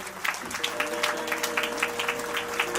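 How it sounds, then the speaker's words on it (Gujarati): An audience at a Ram katha religious gathering bursts into dense, lively applause, many hands clapping together at close range for a few seconds. "તો આપણે તાળીઓના ગગડાથી આપણે વધાવી દઈએ."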